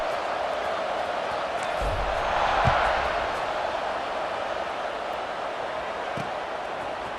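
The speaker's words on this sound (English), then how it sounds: "this crowd is buzzing after that last score" Stadium crowd in the EA Sports College Football 26 video game, a steady broad roar of murmuring fans that swells briefly midway before settling back, with a couple of faint thumps underneath and no clear speech.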